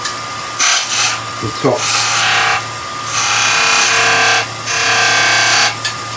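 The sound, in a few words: skew chisel cutting wood on a lathe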